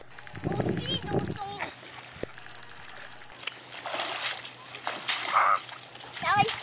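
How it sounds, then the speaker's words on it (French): Splashing of water at the seashore on an island while someone wades through small waves, irregular splashes and sloshing close by, with voices talking over and between them. "Aller marcher sur les vagues."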